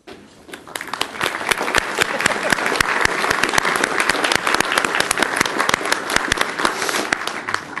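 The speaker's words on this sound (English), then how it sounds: "stand for a round of applause." Sustained, dense applause from a workshop audience honoring the local organizing committee, steady and full for the whole stretch with scattered loud individual claps standing out.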